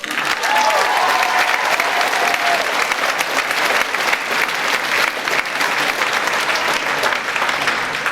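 At a high school graduation ceremony, a crowd breaks into loud, sustained applause, many hands clapping in a continuous dense wash from start to finish.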